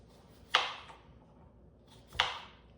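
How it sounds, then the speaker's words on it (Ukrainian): Two crisp knife cuts through a cucumber on a board while preparing open sandwiches, each a sharp slicing crunch with a brief tail, spaced well apart in a quiet room. "Будемо брати огірок і нарізати його також."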